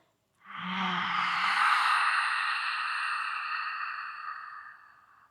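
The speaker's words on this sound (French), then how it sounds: "Et on expire, on tire la langue très fort." A forceful yoga exhale with the tongue pushed out, one long breathy hiss that starts with a short throaty rasp, holds strong for several seconds, then fades. It is close and heard alone.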